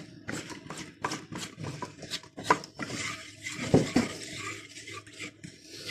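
A spoon stirring melted ghee and baking powder in a dish, with repeated scraping and clinking strokes at close range, no talking.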